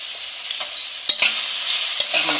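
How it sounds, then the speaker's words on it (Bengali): Potatoes salted and dusted with turmeric fry steadily in a pan, a continuous close sizzle with a few sharp knocks of a spatula against the metal. "আমি এই আলুটাকে আমি একটু ভালো করে লাল লাল করে ভেজে নেব"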